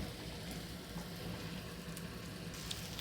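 Curry leaves fry in a pan of carrot and tomato chutney base, giving a soft, steady sizzle that stays faint and even from start to finish.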